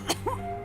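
A single short cough from a game character in Metal Gear Solid, followed by a brief throaty vocal sound over a low steady hum of background music.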